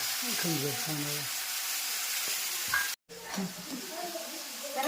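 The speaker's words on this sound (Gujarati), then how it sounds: "સરસ મજાનો વઘાર થઈ ગયો છે" Hot oil sizzles with a tempering of curry leaves and tomato for dal, a steady frying hiss with voices talking over it and a brief cut midway.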